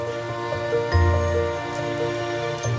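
Rain falls suddenly on a garden, a dense, even patter of drops hitting leaves and ground, steady and moderately close with no voices.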